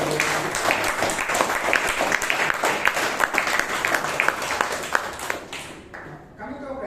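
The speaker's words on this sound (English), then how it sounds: "Can we have a huge round of applause?" Audience applause at a Toastmasters meeting in Bangalore, a dense burst of many hands clapping that fades out near the end.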